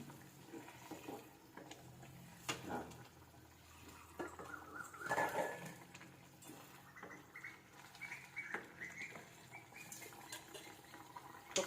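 Semiya vermicelli being stirred into boiling water for upma in a pot, with soft scraping, occasional utensil clinks and faint bubbling, quiet and close.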